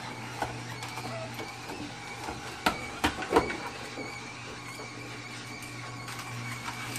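A slow corkscrew-auger juicer crushing homegrown leafy greens and cut lemons gives off a faint steady motor hum with a few sharp creaks and cracks clustered near the middle.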